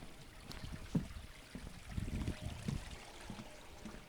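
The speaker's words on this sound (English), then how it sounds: "First, let's cross over the creek again." Keller Creek in San Clemente Canyon, a feeder to the Rose Canyon watershed, with water trickling and splashing close by in irregular bursts over a soft steady flow, no talk.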